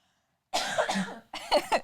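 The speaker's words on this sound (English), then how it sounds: "I'm gonna cough." Two hoarse coughs close to the microphone, the first longer and rougher, the second shorter after a brief pause.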